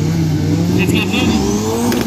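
A turbocharged car roars at a heads-up drag racing event over 800 m, a loud sustained engine note with rising pitch as it accelerates, heard up close amid the racetrack noise.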